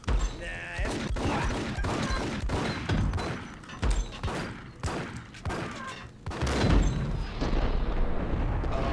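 Video game Max Payne gunfire: rapid bursts of shots and booming impacts in a dense, loud barrage, with occasional mechanical clanks, continuing without pause through the scene.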